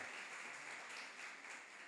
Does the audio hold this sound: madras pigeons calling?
no